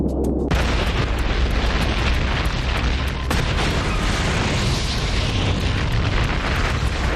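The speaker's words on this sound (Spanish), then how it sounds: "La fuerza de la explosión es más que suficiente para reventar el tanque." A sudden loud blast as fuel vapor ignites inside a model fuel tank, then a sustained, roaring rumble, with a sharp crack midway through and no voices.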